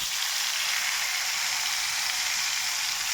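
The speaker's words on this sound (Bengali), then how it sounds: "মাছ ভাজা রান্না করি" Fish sizzling in a pan of hot oil, a steady bright crackling hiss that holds evenly throughout without any talk.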